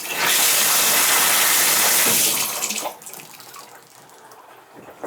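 Water gushes loudly from a Symmons tub shower valve for a little over two seconds, then drops to a softer trickle as the flow is cut back.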